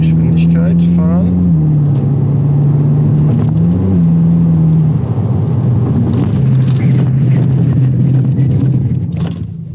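A Hyundai i20 N or VW Polo GTI hot hatch on test, engine droning steadily as it holds speed, then dropping away under full ABS braking with faint tyre scrub and rumble, loud and close throughout.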